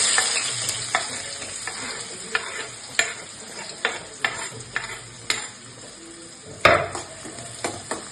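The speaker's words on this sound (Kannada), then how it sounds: "ಹಸಿ ಉಳ್ಳಾಗಡ್ಡಿ ಸ್ಮೆಲ್ ಹೋಗ್ತಾನೆ ಫ್ರೈ ಮಾಡ್ಬೇಕು" Onions fry in a pan for palak paneer, a close steady sizzle broken by regular spatula scrapes and taps roughly every half second, with one louder clank near the end.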